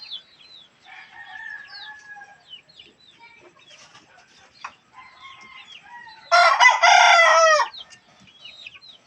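Chickens in a backyard, with scattered soft clucks and chirps leading into a loud rooster crow near the end, close and clear with no talk.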